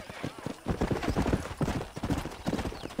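A horse in Red Dead Redemption trots with rapid, rhythmic hoof clip-clops on hard ground, close and clear, with a brief rider's call urging it on.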